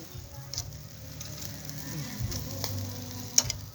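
Meat cooking on a grill, with pieces being shifted from the hot centre toward the cooler edge and liver waiting to go on, sizzles softly and steadily at close range, with small crackles and pops throughout.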